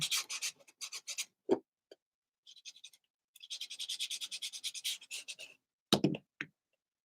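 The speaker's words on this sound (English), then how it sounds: "I'm just going to slide my little sander in there." A small handheld sander works over a typewriter journal cover in short bursts of dry, scratchy rasping, some brief and some sustained, separated by silent pauses, close and moderately loud, with no talking.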